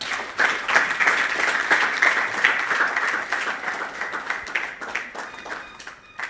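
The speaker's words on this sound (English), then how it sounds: "Let us give this gentleman a round of applause." An audience claps for a guest speaker at a public lecture on a draft constitution and rule of law in The Gambia, a sustained, even round of applause that swells, carries on for several seconds and tapers off toward the end.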